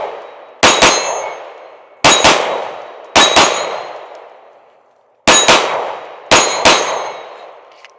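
Taurus GX2 pistol rounds ring off 8-inch steel targets at a shooting range in quick double taps, five loud metallic clangs in pairs, each ringing and decaying for about a second, with no talking.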